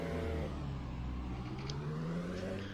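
An LMP2 prototype race car engine in a racing video game drones and whirs steadily, its pitch sweeping upward and then settling as the car accelerates, loud and continuous with no voices.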